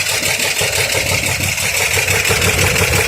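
A Chevrolet Corvair engine runs for the first time after its fuel bowls and lines were refilled, a loud, steady, close idle with an even rumbling pulse and no pauses.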